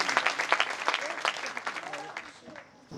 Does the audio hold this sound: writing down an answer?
no